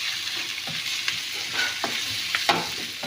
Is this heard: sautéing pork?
yes